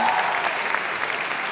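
A crowd at a cosplay event applauding, a brief, loud, continuous burst of clapping from many people with no gaps.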